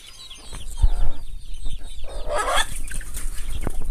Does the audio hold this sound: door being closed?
no